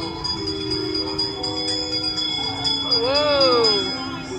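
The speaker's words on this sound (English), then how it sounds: "give us a hint by ringing a bell" Sustained metallic bell ringing tones hang in the air on Disneyland's Big Thunder ride, with a wavering, sliding chime near the end over faint background sound.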